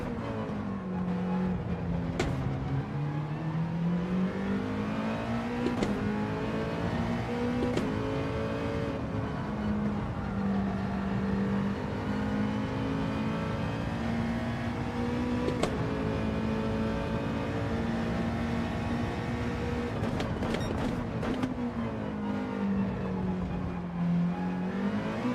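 Race cars in a Gran Turismo Gr2 league race on a video game, a continuous engine drone that rises and falls steadily with gear shifts, loud and unbroken throughout, with no talking.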